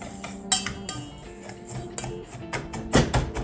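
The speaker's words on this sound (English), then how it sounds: "I'm gonna kind of crush up the rosemary chunks as I mix this." A spoon stirs a spice blend with rosemary and pepper in a small container, giving sparse clinks and taps against the side, close and fairly quiet, with two sharper knocks.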